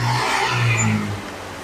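Honda Revo X motorcycle engine running close by, a steady low idle with a brief rise in revs before settling back into an even hum.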